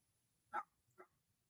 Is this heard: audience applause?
no